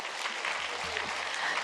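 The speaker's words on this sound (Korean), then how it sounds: "박수하겠습니다." A church congregation at a Sunday sermon breaks into steady applause, a dense continuous patter of many hands with faint voices mixed in.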